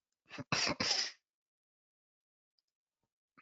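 Three quick, sharp sniffs close to the microphone in rapid succession, followed by near silence.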